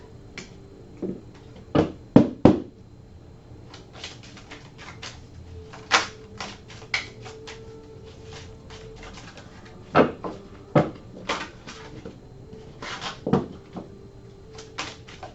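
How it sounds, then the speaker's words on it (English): Crisp oracle cards being shuffled in bursts of sharp flicks and taps, with quiet pauses between, close and otherwise alone. "I'm just going to give these cards a shuffle"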